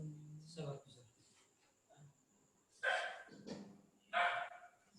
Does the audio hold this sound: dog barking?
yes